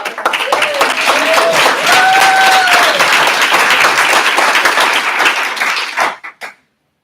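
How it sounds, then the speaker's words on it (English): Applause from a group at a team meeting, a dense burst of clapping with some cheering tones that holds steady for about six seconds, then dies away into a few last scattered claps. "Could I get everybody to give a round of applause to Supreme and Alex Knapp for providing lunc"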